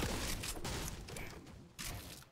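Shotgun blasts ring out in a building-and-shooting video game, a few sharp broadband bursts over steady game noise, moderately quiet, with no talking.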